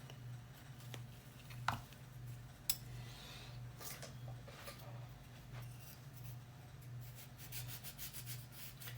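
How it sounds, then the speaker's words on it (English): A baked craft piece is sanded by hand with faint, steady rubbing strokes over a low constant hum, broken by a couple of brief clicks. "I'm going to try and sand that off a little bit."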